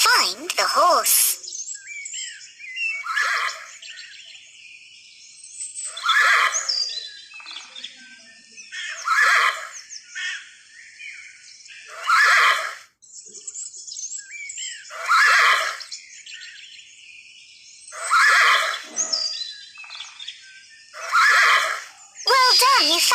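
A farm horse neighs again and again: about eight loud, shrill whinnies, each trailing off, at fairly regular intervals of roughly three seconds with quiet gaps between them.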